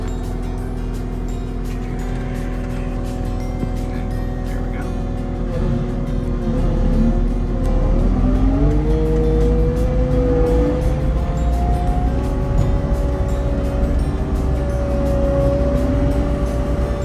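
A Mower King brush cutter running off a skid steer's auxiliary hydraulics gives a steady, loud engine and hydraulic drone with tonal whine that rises and shifts pitch midway as the cutter spins up, with no talk.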